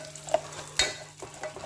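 Rice and lentils fry in a pot for Bengali dal khichuri, a soft sizzling hiss with a couple of sharp utensil clinks and scrapes, close and brief.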